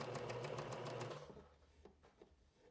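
A sewing machine stitches a flutter sleeve seam in a fast, steady rhythmic chatter, close and fairly loud, then stops about halfway through, leaving faint handling noises.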